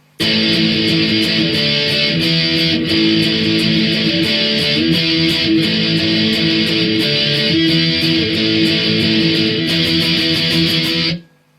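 Steady, dense guitar strumming with full chords plays the chorus of a song, ringing out continuously and loudly for about eleven seconds, then stops abruptly.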